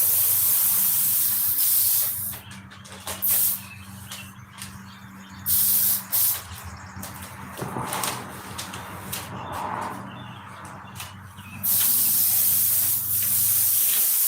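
Black spray paint hissing from a spray can or gun in short, separate bursts of several seconds each, fairly close, with quieter gaps and background noise between them.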